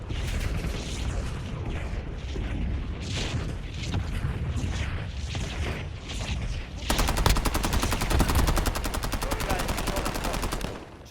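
Gunfire in the video game Warzone, bursts of rapid automatic shots that turn into a long continuous stream toward the end, loud and close, with other game noise underneath.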